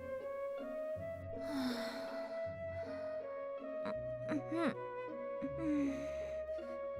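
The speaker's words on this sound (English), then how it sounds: "I hear her snores." A young woman snores while asleep in a manga dub, breathy snorts and wheezy intakes repeating over soft background music, close and quiet, the snoring apparently voiced by an actor.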